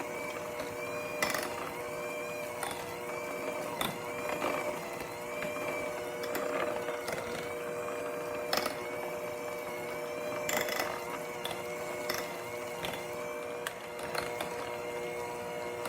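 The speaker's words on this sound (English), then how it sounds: "I actually find it quicker and more efficient to do it with the stand mixer" A stand mixer mashing bananas for banana bread whirs quietly and steadily, with soft rhythmic clicks and knocks repeating through the run and no voices.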